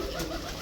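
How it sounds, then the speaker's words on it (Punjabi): A single bateray pigeon gives a short, low coo, close by and alone. "ਬਹੁਤ ਵੱਡਾ ਬਟੇਰਾ ਕਬੂਤਰ"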